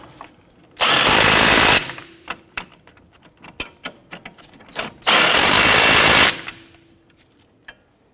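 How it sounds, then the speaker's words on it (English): A power tool on a 2006-2014 Honda Ridgeline tightens the knuckle bolts during a front wheel bearing job, with two loud sustained bursts of rapid hammering, each about a second long, separated by clicks and clanks of handled tools nearby. "Snug down the knuckle bolts."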